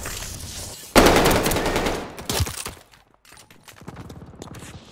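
Light machine gun fire in Call of Duty: Vanguard multiplayer, a loud sustained burst erupting suddenly and rattling on for about two seconds, then trailing into scattered quieter shots and game noise.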